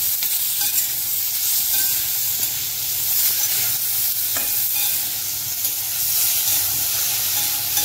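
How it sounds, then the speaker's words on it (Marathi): Onion and tomato frying in a pan for restaurant-style butter paneer cashew masala, a loud, steady sizzle and hiss with occasional stirring scrapes, continuous and close throughout. "टोमॅटो सॉफ्ट होईपर्यंत भाजूया याला जरा"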